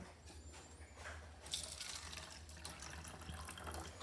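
Lukewarm water poured from a tap or jug into a cup holding Thai chili seeds, a steady close running-water splash lasting several seconds over a low background hum, with no talking.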